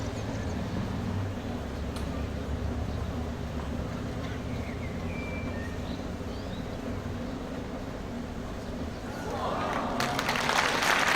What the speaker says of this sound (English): And now the crowd comes to life, a round of applause.